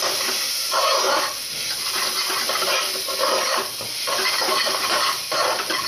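Mutton pieces sizzle and hiss loudly in a pan with turmeric powder, a close continuous frying crackle that swells and eases in waves, with no voices.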